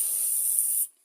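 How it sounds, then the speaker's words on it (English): Aerosol spray cleaning a Honda brush cutter part: one steady, close, sharp hiss that lasts under a second, then cuts off abruptly into silence. "Take your spray and just spray it out."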